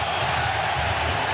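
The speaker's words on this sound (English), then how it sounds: "Listen to that crowd." Baseball stadium crowd roaring after a wild pitch moves runners into scoring position, a dense, loud, sustained wash of cheering and shouting with no distinct voices.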